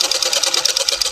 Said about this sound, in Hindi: ये साइड से हम साइड की सिलाई कर रहे हैं अभी हम।